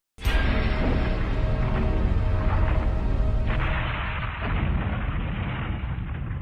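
A fuel tanker blows up in a railway siding: a sudden loud boom right at the start that swells into a long, sustained roaring rumble which barely fades over several seconds.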